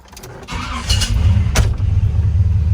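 A 1957 Chevrolet truck with a 454 big block engine cranks over and catches, settling into a loud, deep, rumbling idle close by with a brief high squeal partway through.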